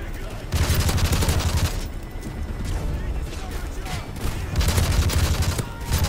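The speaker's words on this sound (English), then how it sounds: "This is where the SMG comes in very handy." Rapid submachine-gun bursts from Modern Warfare 3 multiplayer, loud and close, in two main volleys with scattered shots and game noise between; a voice talks over part of it.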